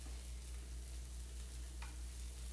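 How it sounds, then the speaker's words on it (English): A steady soft sizzle of cheese cooking in a waffle iron hisses continuously over a low electrical hum, with a faint brief click near the end. "You can hear it sizzling."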